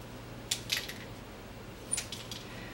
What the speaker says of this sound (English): I'm just going to give it a bit of a trim